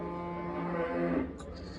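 A cow at a livestock market in Karabulak moos once, a long, close, loud, drawn-out low call, followed by faint background noise.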